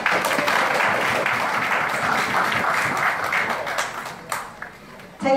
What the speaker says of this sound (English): let's give a round of applause to Nestle Nutrition Malaysia